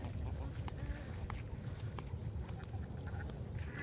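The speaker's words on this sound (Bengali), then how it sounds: "এই যে হাঁস কিন্তু চারিদিকে এই যে দেখতে পাচ্ছেন" Ducks quacking inside a farm shed holding about a thousand ducks, fenced with netting against foxes; a dense, steady babble of quacks under broadband noise, with some faint speech.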